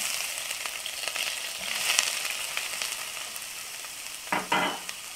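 Onion sautés in olive oil in a pan, giving a soft, steady sizzle with faint crackles and a couple of louder stirring scrapes near the end. It is quiet and close, with no talking.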